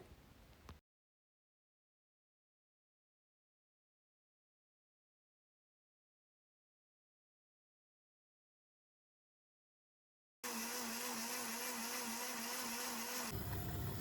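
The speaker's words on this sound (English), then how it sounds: "I'll place my diced leeks, onion, scotch bonnet, about 4 scotch bonnet, nutmeg, ginger, and blend until smooth" A kitchen blender whirring loudly and steadily through diced leeks, onion, scotch bonnet peppers, nutmeg and ginger, starting abruptly after a long silence and dropping in pitch near the end.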